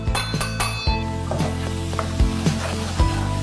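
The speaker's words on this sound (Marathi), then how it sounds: "आता आपण जो मसाला केला होता ना तो टाकणार आहोत." Spice masala tipped into tomatoes frying in a pan for a spicy Kolhapuri dish, sizzling loudly and steadily, with stirring scrapes and a few sharp metallic knocks of a spoon against the pot.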